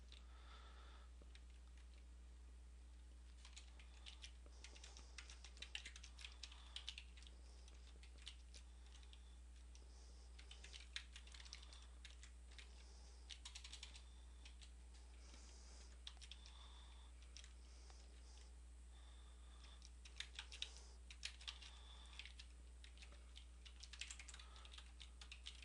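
Quiet, steady typing on a computer keyboard while coding a Ruby on Rails app, soft clustered keystrokes in irregular bursts over a low steady hum, with no talking.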